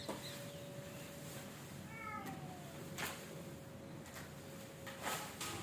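A mother cat hiding with her kittens among bricks gives one faint, brief meow partway through, set against quiet outdoor garden ambience.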